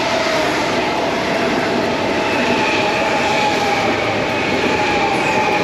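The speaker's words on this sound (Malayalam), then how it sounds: "ഇത് മറ്റേ ബുള്ളറ്റ് ട്രെയിനാണ്." A high-speed bullet train at a station in France, heard as a loud, steady rumble with a sustained high whine, close by and without any talking.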